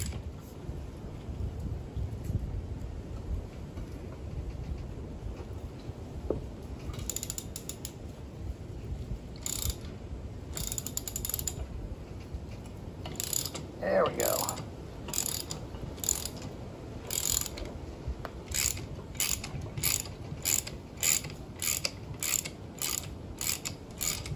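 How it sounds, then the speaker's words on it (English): Gear puller working a pulley off a 1985 Chevy K20 square-body farm truck, slow creaks and a sharp mechanical groan midway, then a run of evenly spaced ratcheting clicks toward the end, fairly faint. "I got this gear puller set up and I'll pull that pulley off there."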